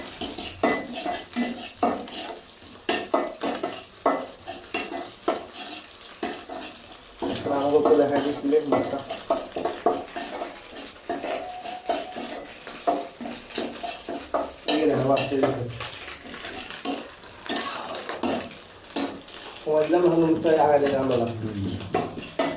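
Noodles stirred with spice mix in a pan, a metal utensil scraping and clinking against the pan in quick repeated strokes with light sizzling underneath, while a person talks over it.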